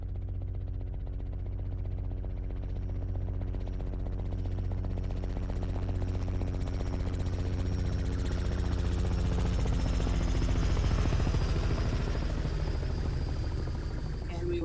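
A Robinson R66 helicopter flies in a noise-abatement condition, heard from the center, with a steady rotor and engine drone and a low rhythmic buzz that swells slightly over fifteen seconds.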